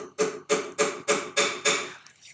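A silversmith in a Dublin workshop strikes silver on a mandrel six times in an even rhythm, each close, ringing metallic blow decaying before the next, with no talk.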